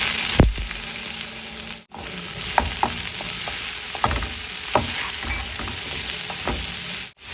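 Chopped onion sautéing in hot oil with curry leaves, cumin and mustard seeds, a loud continuous sizzle with sharp spoon clacks and scraping stirs, briefly cutting out twice.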